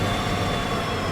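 A freight train with a caboose rolls along the rails in Derail Valley, a steady, loud, dense rumble of wheels and cars that fills the whole moment without any break.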